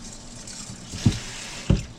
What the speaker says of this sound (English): we're going to put some more cold, purified tap water back on in that bad boy